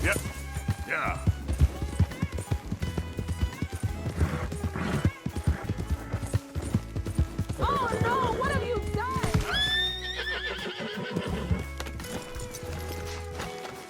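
Missouri Fox Trotter horse in Red Dead Redemption 2 whinnies loudly and clip-clops over a busy game soundscape, with a long rising neigh late in the passage amid steady hoof beats and speech.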